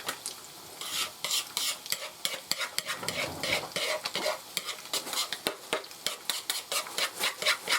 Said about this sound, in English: Let me get myself a spoon so I can scrape that.